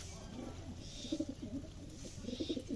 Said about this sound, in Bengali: অনেক সুন্দর সুন্দর কবুতর আছে আমার কাছে